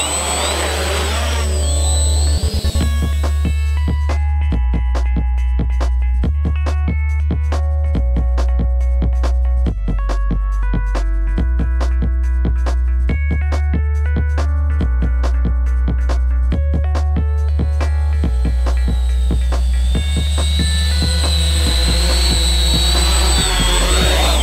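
Multirotor drone carrying a floating camera rig flying, loud sustained whine of motors and propellers whose pitch steps up and down repeatedly as the throttle shifts, with no talking.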